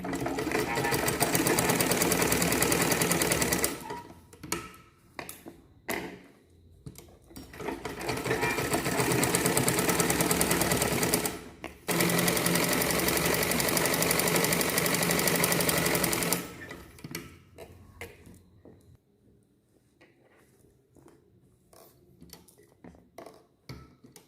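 A sewing machine stitches a blouse collar in three long loud runs separated by short pauses, trailing off into quieter handling at the end; someone speaks briefly between runs.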